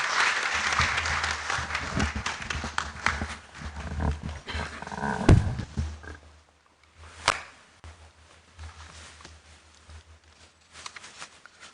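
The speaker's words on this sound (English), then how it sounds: "Let's welcome him with a round of applause." An audience at a university memorial lecture applauds to welcome the Vice Chancellor, a dense burst of clapping for about six seconds that thins into scattered claps and fades.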